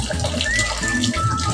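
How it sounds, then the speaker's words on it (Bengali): Water pours from a kitchen filter into a pot of simmering beef curry, a short, steady splashing stream heard close, with a voice faintly in the background. "এই ফিল্টার থেকে আমি ঝোলটা দিয়ে দিচ্ছি"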